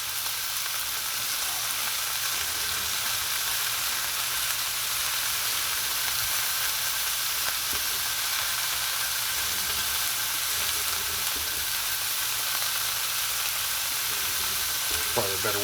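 Quail sears in a pan with a steady, close hiss and crackle that holds throughout, with a few faint utensil taps as the pieces are turned.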